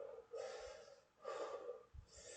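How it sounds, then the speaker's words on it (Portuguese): A person breathing deeply from the diaphragm, with two long, airy breaths drawn in and pushed out close to the microphone and a third starting at the end, faint overall and without speech. "Eu estou respirando aqui"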